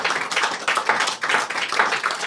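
A church congregation claps to acclaim the name of Jesus, a dense burst of many hands beating in quick, steady waves of applause, close and fairly loud with no talk over it.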